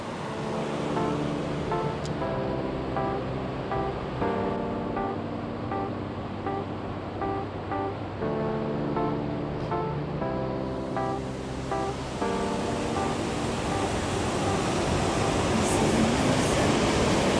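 Waterfall on an unexplored river, a steady, dense roar of tumbling water that fills the whole clip at close range, with no talk over it.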